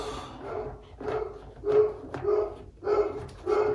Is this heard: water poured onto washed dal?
no